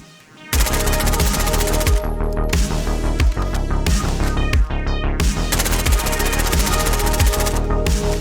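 An AS VAL rifle in a shooter game fires long rapid automatic bursts, dense and loud, with brief pauses between strings of shots and a clean mechanical snap to each round, no talking.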